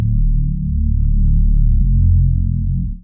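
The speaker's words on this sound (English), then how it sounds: "I get a bass here" A loud, sustained distorted synth bass note throbs low and steady for a few seconds with nothing else playing.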